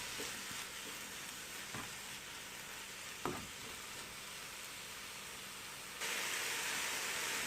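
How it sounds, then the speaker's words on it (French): Vegetable and minced meat filling for oven-baked bourak simmers in a pan with a steady soft sizzle, broken by a couple of faint utensil stirs and a brief knock, growing louder near the end. "Je mijote le tout environ 3 à 4 minutes"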